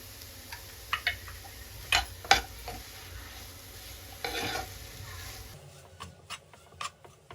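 Sweet potato halwa with jaggery cooking in ghee is stirred in a pan, giving soft intermittent scraping and ticking spoon strokes over a low sizzle, close and fairly quiet.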